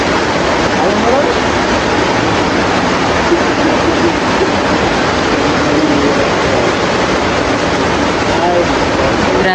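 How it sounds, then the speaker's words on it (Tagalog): Heavy, continuous rain pours down in a steady broadband roar, loud and unbroken throughout. "Grabe lakas ng ulan."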